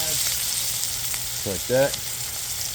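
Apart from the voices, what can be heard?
chuck roast searing and sizzling in a pan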